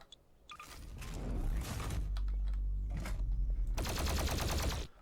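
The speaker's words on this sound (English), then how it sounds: "So I'm going to use the Doom Eternal plasma rifle instead." In Garry's Mod, a Doom Eternal plasma rifle fires in rapid bursts, a dense crackling volley that swells, pauses and then resumes in a sharp final burst.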